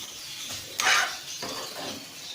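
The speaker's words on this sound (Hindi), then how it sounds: "मैं इसको इन तमाम मसालों को अच्छी तरह से मिक्स करूँगी।" Spices are stirred together in a bowl for a mini pizza topping. A spoon scrapes and clinks against the dish in short close strokes, with one louder scrape near the start and no talk.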